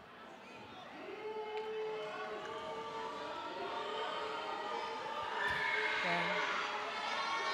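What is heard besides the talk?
Haifa home crowd reacting with disapproval at basketball game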